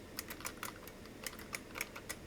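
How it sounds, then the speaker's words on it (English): A command is typed on a computer keyboard while a vintage PC is being repaired, producing soft, evenly spaced key presses over a low background hum. "So I'm going to type VGA BIOS."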